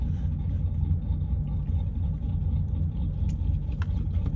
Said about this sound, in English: His truck is shaking my car.